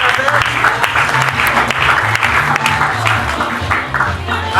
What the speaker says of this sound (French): On acclame très fort pour eux